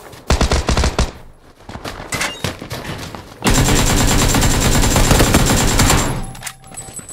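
Gunfire in PUBG, with rapid automatic bursts and single shots, loud and close, then a long dense stretch of sustained fire before it fades, with no voices.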